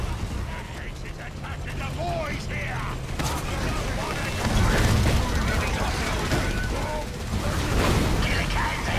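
Dense battle din from a Warhammer 40k strategy game, with orks assaulting Space Marines on a bridge: continuous gunfire, rocket blasts and mechanical clatter layered loudly throughout, with swells of heavier explosions.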